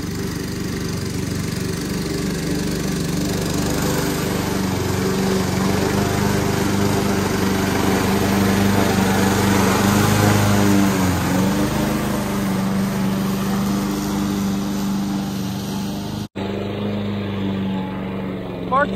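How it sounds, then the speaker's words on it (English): A lawn mower with a freshly sharpened blade cuts through grass up to a foot tall. Its engine drones loudly and steadily throughout, wavering slightly as it works, with a brief dip near the end. "I think the mower's gonna bog down a few times, but we'll see."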